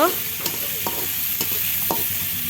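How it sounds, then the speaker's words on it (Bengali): Sliced onions fry in a hot pan until reddish-brown for a pointed gourd korma, giving a steady sizzle broken by a few sharp scrapes of a spoon stirring them; no voices. "পেঁয়াজ আমি লাল লাল করে ভাজে নেব।"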